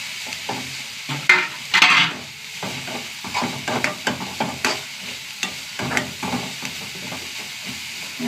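Sliced onions with a handful of grated coconut are sautéed in a pan, giving a loud close sizzle and hiss broken by repeated scraping stirs, with a brief burst of steam near the start.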